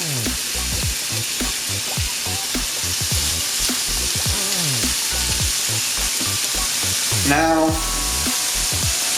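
A hamburger patty frying on a small mini stove, a loud steady sizzle throughout with someone speaking over it and a brief clatter near the end.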